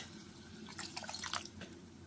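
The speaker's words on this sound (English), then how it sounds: "so I'm adding some water to this" Water being added to a pot of cooking tomatoes for a fish stew, faint splashing and dripping that builds into a short burst of pouring before trailing off, quiet and close with no talking.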